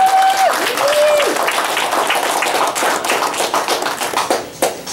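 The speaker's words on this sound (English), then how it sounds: "If you could please give us a round of applause for Supervisor Bob Elliott." Round of applause at a ribbon cutting ceremony, a small outdoor crowd clapping steadily and close, with a short voice or tone at the start and the clapping tapering into a few final claps.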